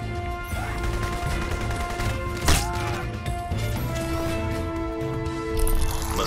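Gunfire in the shooter game Crysis Remastered, heard as a single sharp shot that stands out from a steady bed of game ambience and music, with no talk.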